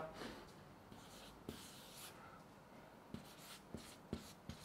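Pen or pencil writes short notes by hand on paper, a soft scratchy rubbing with a few light taps, close and quiet, with no talk.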